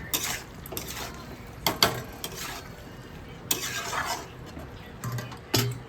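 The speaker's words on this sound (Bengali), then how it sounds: "ঢাকাটা একটু খুলে নাড়িয়ে দিচ্ছি আমি।" Chilli chicken is stirred in an opened pan, giving intermittent metallic scrapes and clinks of a spoon against the pan over a low background hiss, moderately close with no voice.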